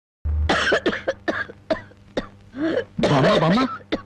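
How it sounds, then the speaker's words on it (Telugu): A person coughs repeatedly in a series of short, sharp bursts, with a few longer throaty coughs near the end, close to the microphone. "ఈ దగ్గుతో రాత్రులు నిద్ర పట్టడం లేదు"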